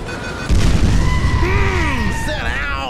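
A homing missile explosion in GTA 5 Online lands as a sudden loud boom followed by a rumbling, crackling tail, with people's voices talking over and through it.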